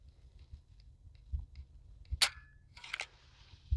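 Trigger pull on an S&W Shield X striker-fired pistol: a quiet, crisp single click followed by a short mechanical snap, close up in an otherwise quiet room.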